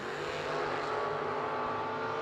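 Drag racing cars at a Fall Brawl final round, a 1969 Mopar Dodge Dart against a Chevrolet, heard as a steady distant engine roar with a sustained high whine.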